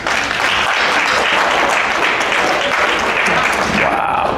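A stand-up comedy crowd claps steadily and loudly in a live venue, dense clapping holding for several seconds without letting up.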